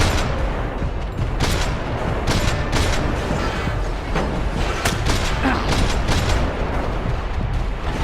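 Grenade explosions and rapid gunfire in the Max Payne 3 game, a dense, continuous barrage of sharp bursts and booms with no pauses, loud and close throughout.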